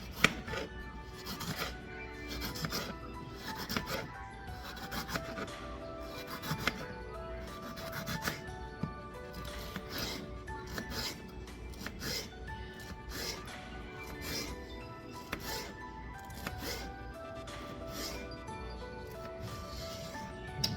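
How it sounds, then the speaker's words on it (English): A knife chops green pepper into thin strips on a board, giving a steady run of quiet, close cutting taps and scraping rubs with no talking. "All right, got some thin strips. Try to get them chopped up small."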